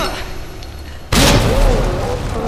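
A grenade goes off in the video game Resident Evil 2: a sudden, loud, close blast booms out of quieter game ambience and fades slowly through a rumbling tail.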